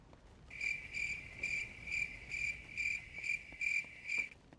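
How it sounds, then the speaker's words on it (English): Cricket chirping in the Arkham Origins video game, a steady sequence of about eight evenly spaced high trills repeating at a regular pulse over a quiet ambient background, with no speech. "I love that cricket noise."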